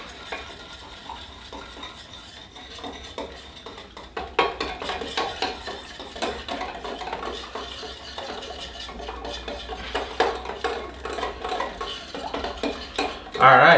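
Cornstarch is stirred into a barbecue sauce in a bowl, with quiet handling at first, then busy clinking and scraping of a utensil against the dish growing louder and continuing to the end.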